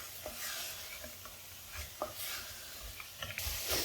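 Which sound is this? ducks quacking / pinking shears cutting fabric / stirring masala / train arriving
stirring masala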